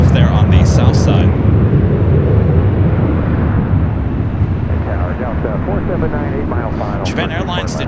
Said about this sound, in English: That was Spirit Airlines Flight 326 heading to Houston, taking off there on the south side.